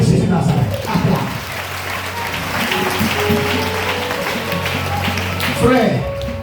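A prayer-meeting congregation applauds in praise of Jesus, a steady crowd clapping that runs throughout, with a voice calling out over it.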